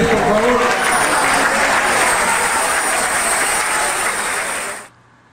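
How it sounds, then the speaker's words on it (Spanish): An audience applauds in a television studio, a dense, loud, sustained wave of clapping that suddenly cuts to silence near the end. "Un fuerte aplauso a la gente de redes, por favor."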